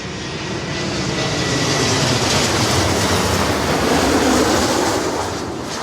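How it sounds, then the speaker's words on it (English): Aircraft engine noise near London City Airport on its steep city approach: a loud, continuous broadband jet roar that swells slightly, then eases, close and unbroken, with no voices. "the noise from the aircraft is obviously a consideration for the residents"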